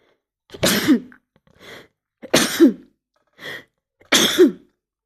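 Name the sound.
sneezing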